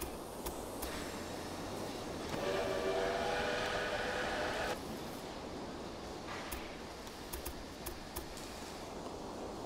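A train in the Railway Empire video game runs along the track with a rumbling rolling sound and a sustained whistle-like tone in the middle, plus a few short clicks.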